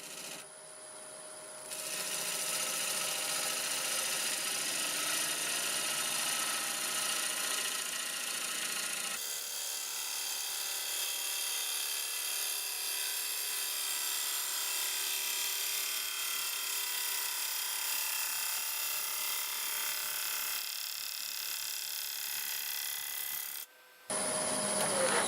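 Bowl gouge shaving wood on a spinning lathe: a continuous bright hiss and rasp of cutting over a steady motor whir, close and sustained, shifting in tone partway through, with no speech.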